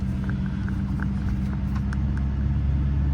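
A car engine idles with a steady low rumble and faint ticking, running continuously and close by without any speech.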